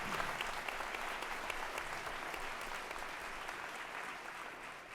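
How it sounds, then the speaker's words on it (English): Sustained audience applause at a Great Lakes environmental forum, steady dense clapping from a large crowd heard at moderate distance, fading slightly toward the end. "David Orr, that was the first applause line"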